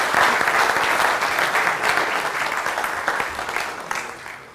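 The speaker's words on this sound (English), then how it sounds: "but let's give a massive round of applause to Stephanie." An audience at a careers event for young Black graduates breaks into a sustained round of applause, a dense, steady clatter of clapping that starts loud and slowly tapers.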